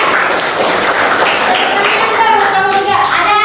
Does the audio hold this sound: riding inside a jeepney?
no